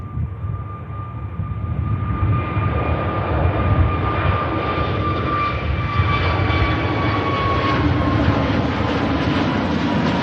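Airbus A321neo jet departing Manchester Airport: a steady, loud engine roar with a broad rushing rumble and faint whining tones, building slightly and holding throughout.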